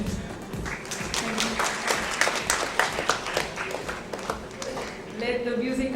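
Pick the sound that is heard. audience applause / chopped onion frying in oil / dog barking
audience applause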